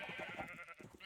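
A sheep in the video game Minecraft gives a short wavering bleat, heard quietly and close with no talking over it.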